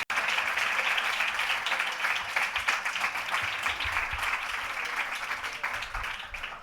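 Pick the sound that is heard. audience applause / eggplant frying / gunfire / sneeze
audience applause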